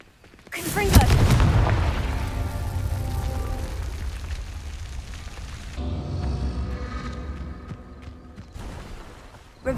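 Confringo blasting spell in Hogwarts Legacy, one sharp fiery explosion bursting loudly up front, then a long crackling rumble and debris that fade and swell again, with a voice speaking over it.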